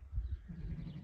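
A sheep beside her two-day-old ewe lamb gives a faint, low, short bleat, quiet and close with a little breathy livestock noise around it.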